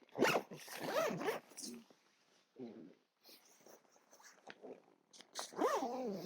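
Someone zips up the front door of an Outwell Montana 6 Air inflatable tent, making several quick ripping zip strokes close by, with short pauses and talk in between.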